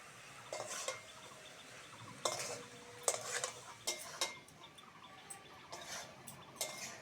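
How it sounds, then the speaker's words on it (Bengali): Boiled potatoes for a khesari greens fry are gently stirred in a pan to dry, producing scattered spoon scrapes and light clinks against the metal at an unhurried, uneven rhythm, close and quiet with no speech. "আলু সিদ্ধ হয়ে গেছে হালকা হাতে নেড়ে নেড়ে শুকনো করে নেব"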